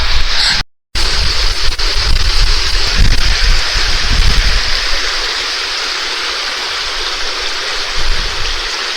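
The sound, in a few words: river flowing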